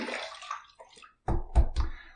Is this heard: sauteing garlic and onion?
no